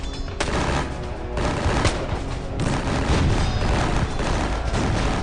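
Musket volleys and cannon fire from a War of 1812 battle, dense overlapping gunshots and deep booms rolling continuously, loud and chaotic, with no talking.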